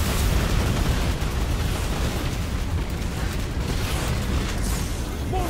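Heavy missile blast in the Destiny 2 sci-fi shooter, a loud, sustained broadband roar of explosion rumbling steadily for several seconds with no pause.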